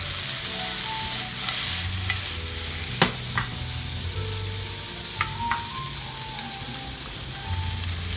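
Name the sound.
onions and peppers frying for Philly steak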